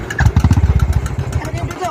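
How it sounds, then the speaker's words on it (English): Royal Enfield Classic 500 motorcycle with a modified exhaust thumps at idle in a loud, close, rapid and regular single-cylinder beat, with speech faintly present. "let's check the exhaust note of Royal Enfield Classic 500"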